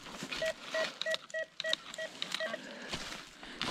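A metal detector used for treasure hunting emits a series of short, repeated electronic beeps in an uneven rhythm, close and moderately loud over faint outdoor background.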